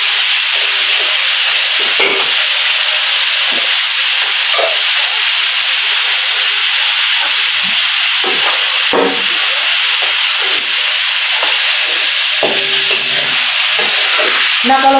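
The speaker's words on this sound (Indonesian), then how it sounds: "De Irma goreng ini ikan asinnya." Salted fish frying in a pan for a jackfruit gulai, giving a loud, steady sizzle and hiss that runs without pause, with occasional faint clinks and pops over it.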